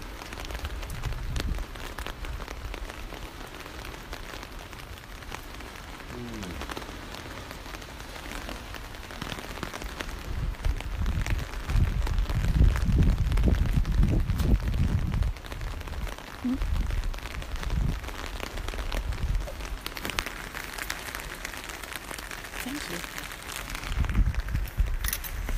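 Steady rain patters on a surface all around, a constant hiss with low thumps and occasional drips, no voices over it.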